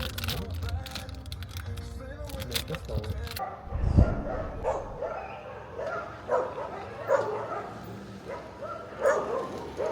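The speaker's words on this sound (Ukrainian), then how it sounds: "Собака там кричить." A dog barks and yips a few times at a distance, with people talking nearby and some rustling up close, near a dendrological park.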